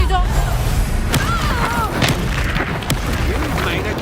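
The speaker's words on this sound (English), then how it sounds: "Glaciers! Confringo!" Fiery Confringo spell blasts in the Hogwarts Legacy game, loud booming impacts and crackling bursts layered over dense battle noise, with a character shouting spell names in the middle of it.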